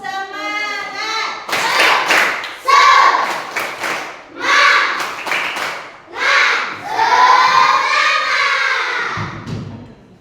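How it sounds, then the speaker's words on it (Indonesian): A group of adults claps out a rhythmic spirit-clapping routine in bursts, with loud patterned claps mixed with chanting voices and cheers, close and energetic throughout. "Tepuk semangat."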